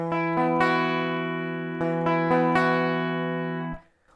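A guitar plays the full chord sequence of a song, with several clear strums in two groups, each chord left to ring before fading to silence.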